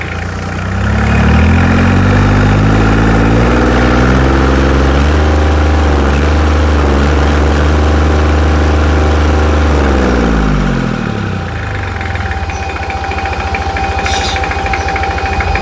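An Isaki E 3CD boat engine with an 87 mm bore, rated over 33 hp and fitted with a warm exhaust, runs loud and close. It revs up in a rising, throaty roar and then drops back to a steady, chugging idle.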